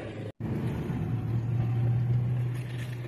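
A car on a road test after catalytic converter cleaning gives a steady, close engine drone with road noise. A brief dropout occurs near the start, and there is no talking.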